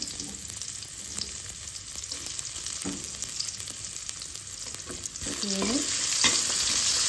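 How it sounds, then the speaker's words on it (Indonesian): Shallots and spice paste sautéing in hot oil in a home kitchen for stir-fried cabbage with shrimp: a steady, close sizzle with faint stirring scrapes, growing louder near the end as the ingredients hit the pan. "Kemudian kita tumis bumbunya ya. Sepertinya udah mulai panas. Sekarang kita masukkan bawangnya."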